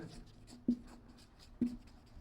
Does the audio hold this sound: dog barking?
no